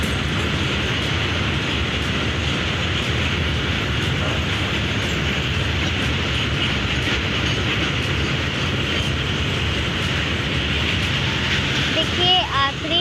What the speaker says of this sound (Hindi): देखिए ट्रेन जा रही है।